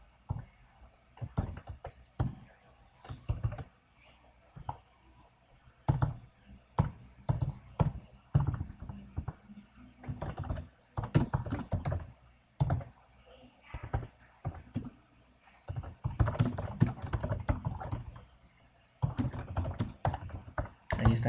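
Code is typed on a computer keyboard for a Delphi programming task, producing close, crisp key clicks in irregular bursts and runs separated by short pauses.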